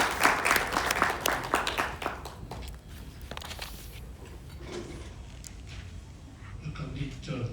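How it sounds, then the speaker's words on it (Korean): Audience applause at a school event in Jeju where an AI-based cooking robot is demonstrated, loud at first and then thinning into scattered claps as the room settles. "큰 박수 부탁드립니다."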